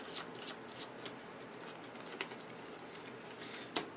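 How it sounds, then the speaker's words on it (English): Cards being drawn one by one from a deck during a Tyrants of the Underdark board game, giving a few soft, quick flicks and slides spaced irregularly, quiet and close with no talk. "So on your turn, you're going to draw 5 cards."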